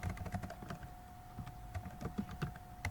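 Fingers type on a computer keyboard, clattering in quick uneven bursts of key presses with short pauses between them, close and fairly quiet with no talking.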